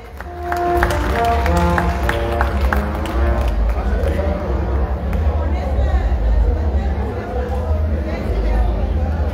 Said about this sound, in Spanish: fuerte el aplauso para todos ustedes, fuerte el aplauso para nuestras autoridades